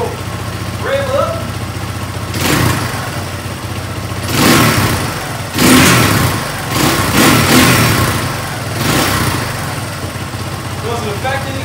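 A Honda ATC 200X three-wheeler engine idles with a steady putter, then revs in several swelling surges, close and fairly loud, while people talk over it.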